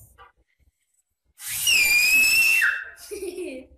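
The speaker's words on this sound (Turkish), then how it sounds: "Nasıl da ıslık çalıyormuşum lan be. Niye ıslık çaldın şimdi?" A person whistles one long, loud, wavering note that slides down in pitch, cutting in after near silence and ending in a short trailing squeak.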